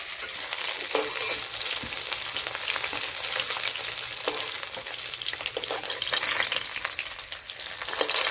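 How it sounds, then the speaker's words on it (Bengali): Katla fish frying in oil in a home kitchen gives a steady, dense sizzle with occasional soft stirring clinks, close and continuous with no talk. "তবে বন্ধুরা, দেখতে পাচ্ছেন আমার মাছগুলো ভাজা হয়ে গেছে"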